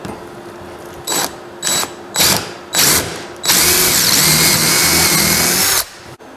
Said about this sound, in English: First thing I got to do is drill a hole through it.